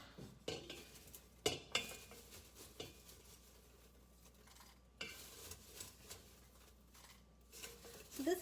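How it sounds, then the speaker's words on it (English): Bacon-fat popped popcorn being scooped and poured into a container, with dry rustling and several sharp clattering knocks of kernels and utensil against the vessel, spaced irregularly and fairly close. "Let's get some in a container here."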